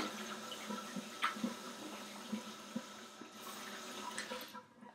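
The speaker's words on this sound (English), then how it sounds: "just wash your hands because it's important to have a like clean hand" Faint running tap water splashing over hands at a sink during a daily washing routine, quiet and steady with small splashes and a few clinks, no voices.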